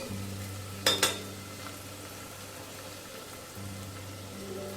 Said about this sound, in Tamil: பொரிஞ்சோன்னு நம்ம வெங்காயத்தை போட்டுருவோம்